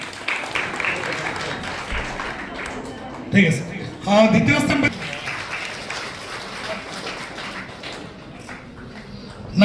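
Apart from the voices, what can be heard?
audience applause at a parents' meeting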